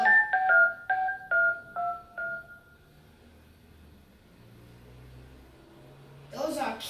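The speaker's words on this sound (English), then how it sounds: "It has lots of buttons and numbers that I like to push." A toy telephone with many number buttons gives a string of bright electronic beeps, six or seven quick tones pressed one after another that fade out, followed by quiet and a short rustle at the end.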